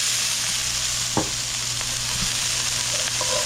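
Capers sizzle steadily in a hot pan for a chicken piccata sauce, a continuous close frying hiss with a faint clink partway through.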